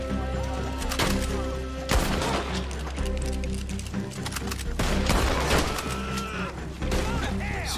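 Repeated shotgun blasts and scattered gunfire in a Red Dead Online bounty shootout, loud and dense throughout, with cattle lowing faintly in the mix and brief talk over the shots.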